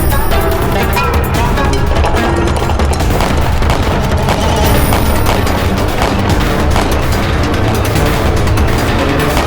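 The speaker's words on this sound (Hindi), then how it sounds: "हम खुद चलाएंगे तोप अभी।" A dense, continuous barrage of heavy cannon booms and blasts, loud and close, overlapping with no pause for the full stretch.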